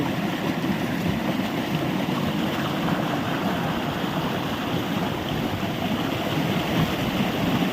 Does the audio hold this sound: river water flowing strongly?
yes